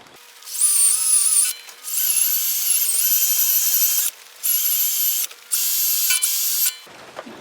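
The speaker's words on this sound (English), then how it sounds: "I'm going to take a drill with a wire wheel on there." A power drill fitted with a wire wheel whirs in several sustained bursts with short pauses between, cleaning metal on a Chrysler 200 wheel bearing job, a high grinding whine over a steady motor hum, close and loud.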